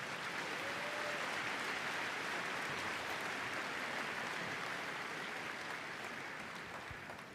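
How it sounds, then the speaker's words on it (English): An arena crowd at Crufts 2022 applauds the guide dog breeding team after a demonstration, a continuous, even roar of many hands heard fairly quietly and at a distance, slowly fading over several seconds. "Can you give the breeding team a big round of applause?"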